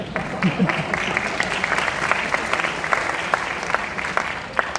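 A crowd applauds during an Independence Day speech, with steady, close clapping from many hands and a voice faintly mixed in early on.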